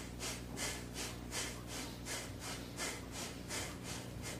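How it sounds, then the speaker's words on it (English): Rapid, forceful breaths pump in and out through the nose in an even rhythm, roughly two per second, as part of an energizing Iron Shirt qigong breathing exercise, close and continuous with no talking. "Energize breathing."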